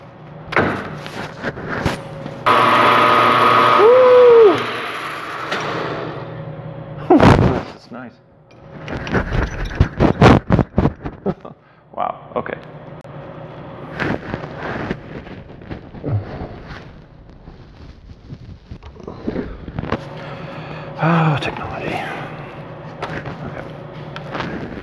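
Metal lathe taking a rough cut on a Nickel 200 rod at 800 RPM, heard as a steady grinding whine with scraping bursts and clunks, close and fairly loud with pauses between passes.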